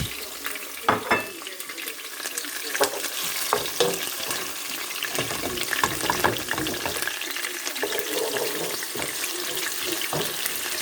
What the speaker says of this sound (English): So I'm frying the onions now.